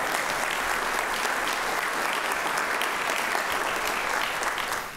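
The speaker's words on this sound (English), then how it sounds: "Give him a round of applause." A church congregation at a worship service claps steadily and loudly, a dense wash of applause that holds at full strength throughout before easing at the very end.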